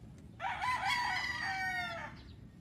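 A young stag rooster from a line-bred flock crows once, a clear drawn-out call rising and falling over about a second and a half, close by against faint background noise.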